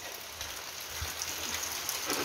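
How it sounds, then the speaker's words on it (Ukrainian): Heavy rain pours down in a dense, steady hiss of drops spattering on surfaces, continuous and close, with no voices over it. "у нас отакий шалений дощ іде"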